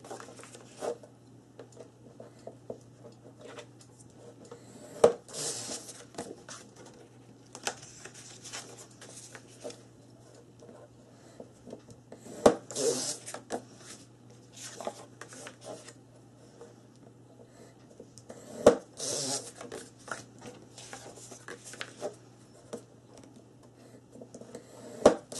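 Paper pages for a mini album being scored along a 1/2 inch line, with soft scraping and a few sharp taps from the scoring tool repeated several times over a faint steady hum in a quiet room.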